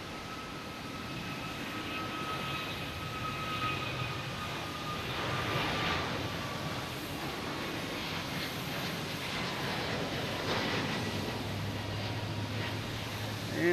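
An Aer Lingus Airbus A321neo bound for Shannon roars at Boston Logan Airport in the evening, a sustained, fairly distant jet engine rumble and whine swelling and holding steady, with faint talk beneath it.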